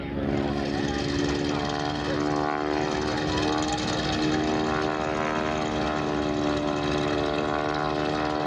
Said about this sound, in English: Now John is going to taxi by, and you'll be able to see him.